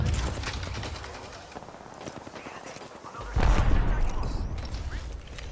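Gunfire in a video game battle chatters in fast, dense bursts under mechanical clatter, growing louder and heavier midway, close and sustained.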